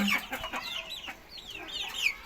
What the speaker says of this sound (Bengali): এই তো আমার মুরগি